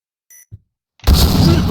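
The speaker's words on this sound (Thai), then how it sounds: "Bomb has been planted." A few short electronic bomb-planted beeps in the game Point Blank sound in near silence, then a loud burst of noisy game audio takes over.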